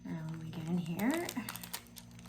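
Tissue paper crinkles and rustles while a tarot deck is unwrapped, with soft crackling bursts running under a person's steady talk at close range.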